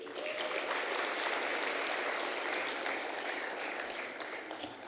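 Sustained audience applause fills the hall at an awards ceremony, a dense, steady wash of clapping from a large crowd that holds loud throughout, easing slightly near the end.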